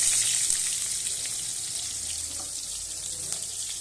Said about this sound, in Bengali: তেল গরম হয়ে গেছে, এবার আমি পেঁয়াজ দিয়ে দেবো